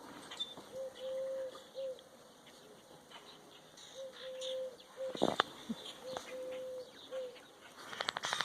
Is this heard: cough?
no